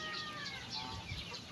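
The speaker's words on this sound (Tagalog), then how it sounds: "Marami silang alagang ano, ducks at saka po mga native chicken." Native chickens cluck among farm poultry, including ducks and geese, in a short burst of overlapping nearby clucks and calls against a busy background.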